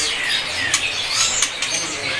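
Magpie robins chirp and flutter in a busy, noisy bird market, with a few sharp tweets standing out over a constant bright hiss.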